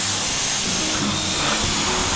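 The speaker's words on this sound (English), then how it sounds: "I have the pressure washer on low settings" A pressure washer on a low setting sprays caked mud off a Formula Vee race car that sat for 30 years and was submerged. The hiss is steady, loud and close, with no talk.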